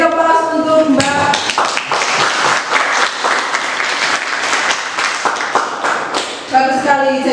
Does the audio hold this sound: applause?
yes